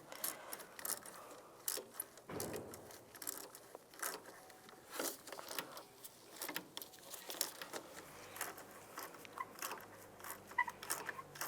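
Worm-drive hose clamp being tightened on a 1999–2005 Volkswagen Jetta water pump, with faint scattered metallic clicks, ratcheting and tool handling in quiet, irregular bursts with no talk.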